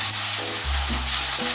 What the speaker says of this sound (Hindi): अब हम इसमें डाल देंगे 1 टेबल स्पून डाल देंगे अदरक लहसुन पेस्ट और इसे 1 मिनट पकाएंगे।